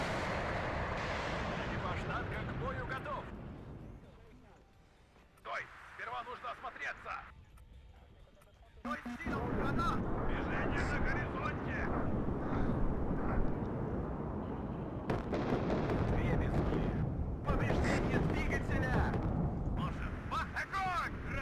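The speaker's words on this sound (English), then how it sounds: "Is it ethical to carpet bomb this area so close to my teammates' units?" Carpet bombing in the Warno video game, a 10v10 multiplayer match with big bombers: heavy rumbling explosions and aircraft noise roll on for a long stretch, with a dip in the middle, while someone talks over it.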